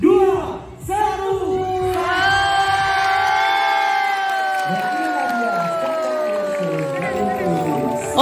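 Riders on a theme park ride at Saloka scream together in a loud sustained group shriek, voices sliding in pitch as the ride moves, close and continuous.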